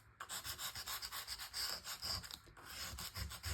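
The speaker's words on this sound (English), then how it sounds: "we'll just get some sandpaper and just rough this up a little bit" Sandpaper roughing up a glossy surface, quick rhythmic rubbing strokes repeated steadily at close range, soft and scratchy with no talking.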